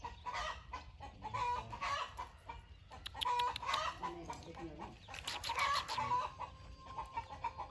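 Black Hmong chickens, including a short-tailed young rooster about three months old, cluck and the rooster calls close by, with scattered bird noise and some background voices throughout.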